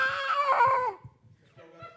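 Human voice mimicking a cat mating on a rooftop, a short wailing yowl that slides downward, followed by fainter, broken vocal sounds.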